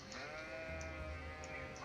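Sheep bleating in the strategy game Age of Empires IV, a sustained, wavering nasal bleat held for nearly two seconds, fairly quiet over a steady game background.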